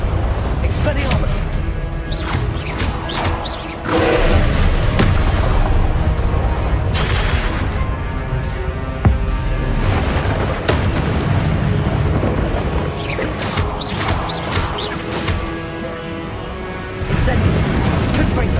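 Spells cast over and over in Hogwarts Legacy, fire and blasting curses setting off loud, continuous rumbling explosions and crashes that barely let up, with a voice shouting incantations throughout.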